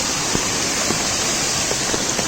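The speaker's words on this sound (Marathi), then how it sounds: "हा जोरात वावता पाणी" Fast-flowing flood water of a Konkan river swollen by heavy monsoon rain rushes in a steady, dense roar, close and continuous, with faint splashes rising now and then.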